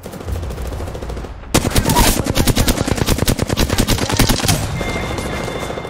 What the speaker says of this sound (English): Getting shot at. Taking fire.